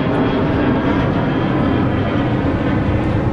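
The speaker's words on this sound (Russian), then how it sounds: "с таким гулом от самолета отдыхать вообще будет невозможно" A low-flying airplane passing over a seaside promenade in Adler, Sochi, a loud, steady, broadband engine drone that fills the whole stretch without letting up.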